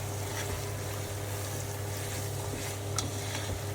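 Cabbage and green pepper Manchurian stirred in a pan, a steady low sizzle with faint scraping of the spoon running throughout, close and even, with no one talking.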